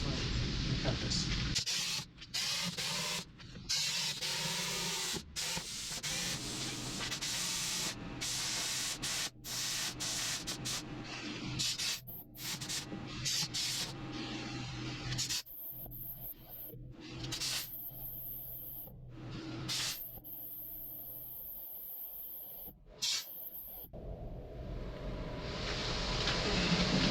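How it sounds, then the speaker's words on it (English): A plasma cutter slices a steel patch on a 1960s Garwood dump bed, giving a harsh, steady hiss that comes in bursts with sharp stops and restarts over a low workshop hum. "we're going to get in here with the plasma and cut this"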